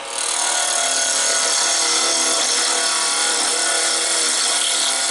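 A wood lathe spins a banksia pod as a gouge cuts it, giving a continuous loud rough scraping hiss close by with no voices.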